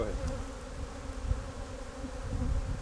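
A steady, moderately loud buzz rises from a mass of honeybees as the last of them are shaken into a collection box, with soft rustling and no speech.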